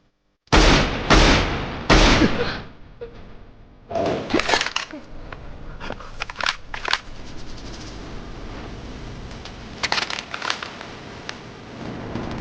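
A few loud sharp shots ring out close together at the start, followed by scattered bangs and crackles amid ongoing commotion.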